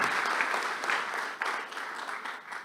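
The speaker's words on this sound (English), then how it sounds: "Again, huge round of applause for them" Audience applause at a CMA USA convention seminar, a steady patter of clapping hands that swells and fades slightly over a few seconds, fairly close and without talk.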